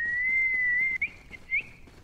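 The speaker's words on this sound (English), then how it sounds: "That's some hella good whistling" A person whistling a sustained clear tone with slight wavering pitch, then a few short rising whistled notes, close and fairly loud over faint background sound, no talk.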